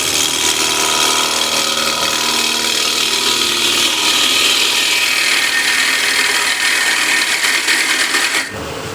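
A freshly sharpened ball gouge cuts wood on a spinning lathe while the feet of a gift piece are trimmed slightly smaller, giving a steady, loud, continuous scraping hiss that cuts off abruptly near the end.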